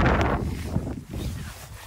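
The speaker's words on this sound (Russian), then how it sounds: "у нас который день уже ветер дует. Такой серьезный." Strong gusty wind buffets an outdoor microphone at a car market, a loud low rumble that surges and eases over two seconds with no voices.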